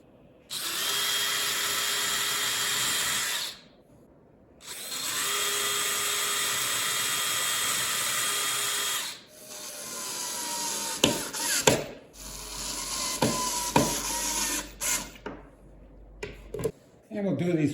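A power drill drives screws to fix a torsion hinge to a toy chest lid, running in two long steady whirring bursts, then gives way to sharp clicks and knocks of handling up close.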